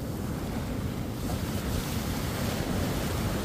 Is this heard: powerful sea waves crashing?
yes